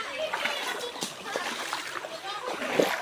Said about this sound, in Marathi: असे पाण्यातनं बघा बदावर चालत चालले आहेत पाणी सगळं उडायला लागले